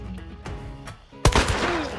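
A single heavy shotgun blast in the video game Hunt: Showdown, a sudden loud boom midway after a couple of softer distant shots, its echo trailing off afterward.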